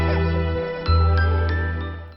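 A phone goes off with a short bright electronic jingle, two quick tinkling chimes over a steady tone. The sound is close and clear, and no one speaks over it.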